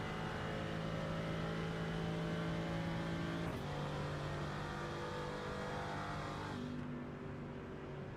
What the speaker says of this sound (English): we'll just have a listen to that engine and see if he's braking immediately or if there's a coast